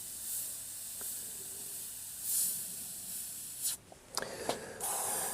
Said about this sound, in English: So it's spraying the paints.